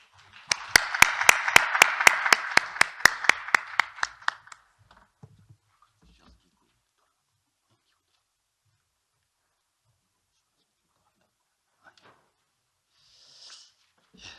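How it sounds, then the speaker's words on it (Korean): An audience at a university association general meeting claps in a quick, even burst of applause for about four seconds, then it cuts off into near silence broken only by a few faint rustles. "큰 박수로 맞이해 주시죠"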